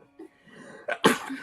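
A single sharp sneeze, preceded by a quick inhale and small breathy sounds, close and fairly quiet.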